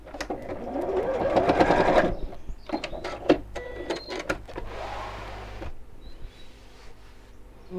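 Sewing machine stitching a tab onto a pot holder along the edge within the seam allowance: a fast, close, continuous whirring run for about two seconds, followed by short, intermittent bursts of stitching and mechanical clicks.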